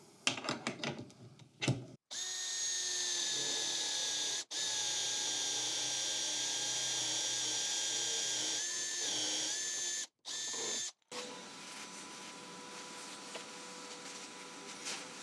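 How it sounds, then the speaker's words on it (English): A power drill with a Forstner bit whines steadily for several seconds as it bores into wood, pausing briefly before a final burst, then stopping. "I have installed the Forstner bit with the collar itself already in my drill, so let's give it a go"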